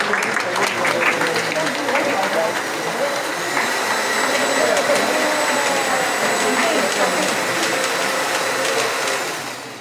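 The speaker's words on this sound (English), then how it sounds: "Another round of applause for our brand ambassador and the team at ITEL." Sustained applause and cheering from an event crowd honoring Kenya's new ITEL brand ambassador, loud and continuous for about ten seconds, with shouts and a voice over the noise.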